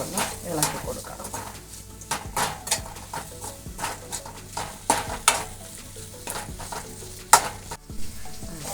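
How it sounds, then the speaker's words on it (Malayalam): Chopped tomatoes and onions sautéed in a pan for a prawn roast, heard as repeated scraping stirs over a soft sizzle, close and busy, with a voice talking underneath. "തക്കാളി ഇട്ട് നല്ലോണം സവാളയായിട്ട് നല്ലോണം ഇളക്കി കൊടുക്കണം."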